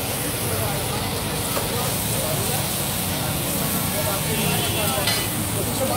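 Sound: green chillies sizzling as they fry in a pan

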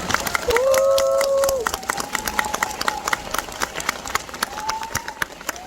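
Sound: audience applause for the actors

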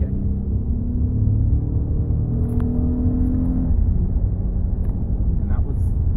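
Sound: modified car accelerating, engine revving

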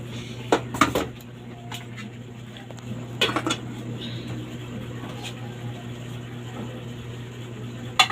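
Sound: scooping rice and viand with a serving spoon

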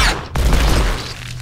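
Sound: gunfire in the video game Evil Dead Regeneration

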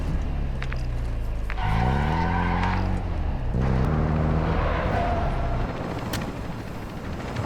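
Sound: car driving in Call of Duty Warzone DMZ video game

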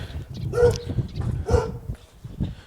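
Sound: dog barking

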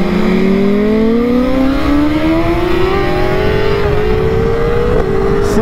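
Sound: motorcycle accelerating on COTA race track

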